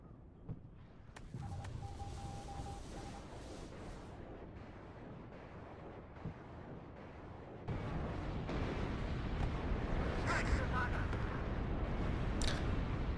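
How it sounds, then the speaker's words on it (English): Mortar shells burst in the Warno wargame, a rumbling barrage of heavy booms and crackling impacts that swells louder partway through, with a voice talking over the blasts. "Now here comes the mortars on the pack."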